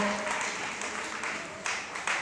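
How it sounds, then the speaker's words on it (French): An audience at a sisters' celebration applauds in a steady wash of clapping, with a few sharper bursts standing out near the end. "Un tonnerre d'applaudissement pour la MJCO."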